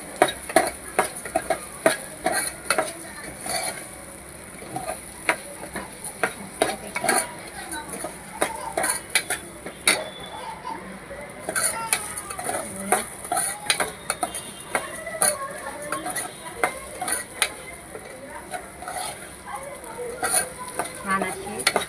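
Broken wheat (lapshi) roasting in a pan while a spoon scrapes and stirs it, giving repeated clinks and scraping strokes with a soft sizzle underneath for a sustained stretch, close and moderately loud.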